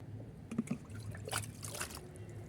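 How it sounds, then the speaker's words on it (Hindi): Fungicide-mixed water is poured gently onto planted potatoes in a rooftop garden, a faint trickle and splash with a few soft bumps, quiet and close. "अच्छे से ये पानी इनके बीच में डाल रही हूँ"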